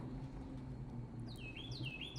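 Birds chirp and tweet in short bright calls in the latter half, over a steady low rumble along an alpine mountain coaster ride in Pigeon Forge, in the Smoky Mountains.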